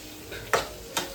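Okra frying in a pan, a faint steady sizzle broken by two short stirring scrapes, close by with no voices.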